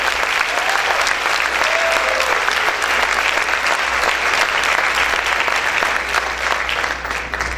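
A church congregation applauds loudly and steadily, dense continuous clapping with faint cheering voices and whistles blended in, sustained throughout.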